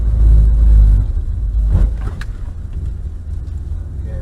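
A Mercedes-Benz car on a track circuit gives a low, rumbling engine drone that swells briefly with a short throttle blip, then settles back to a steady idle-like hum with some wind noise.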